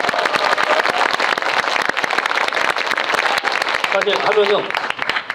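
Cinema audience at a film screening Q&A giving a big round of applause, dense continuous clapping throughout, with someone speaking briefly over it near the end.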